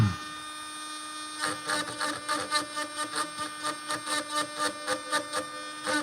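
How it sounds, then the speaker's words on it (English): Dremel rotary tool running steadily while jigging a bone stag handle, a high whining hum that turns into rhythmic pulsing grinding as it bites into the bone, repeating about twice per second. "how many people are gonna sit in here and listen to this Dremel tool run the whole time?"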